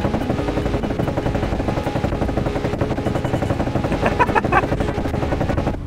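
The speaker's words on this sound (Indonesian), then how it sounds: "Suara knalpotnya kayak helikopter sih." A Nissan GT-R's exhaust in the Roblox driving game Nusantara Driving chops in a rapid, steady pulse like helicopter rotors, loud and continuous throughout.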